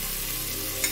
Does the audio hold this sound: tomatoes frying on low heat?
yes